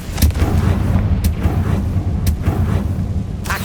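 Confringo fire spells blast in the Hogwarts Legacy video game, a dense rumbling barrage of booming explosions with sharp cracks punctuating the roar, loud and continuous with no talk.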